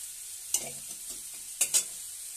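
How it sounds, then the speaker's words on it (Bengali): Potatoes and pumpkin pieces are stirred in hot frying oil, giving a soft, low sizzle broken by a few sharp scraping clicks of the spatula against the pan. "আলু আর কুমড়ো একসঙ্গে দিয়ে দিলাম। এগুলো ভালো করে নেড়ে নিচ্ছি।"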